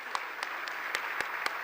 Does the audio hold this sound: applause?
yes